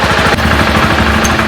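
A BMW G 650 GS motorcycle engine idles close by after a valve adjustment, with a rapid, loping, pulsing rhythm, loud and mechanical.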